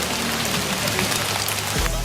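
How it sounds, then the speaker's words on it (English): A heavy rain downpour in Phuket, Thailand, a dense steady hiss of rainfall, fairly loud and continuous, ending with a low thump near the end. "there was a heavy downpour today"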